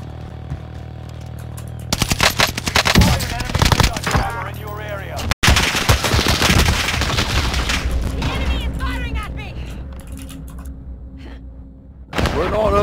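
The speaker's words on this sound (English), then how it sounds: "Found a submachine gun!" Submachine gun fire in a video game bursts in rapid, loud volleys, with crackling shots and short breaks, over game effects and faint voices.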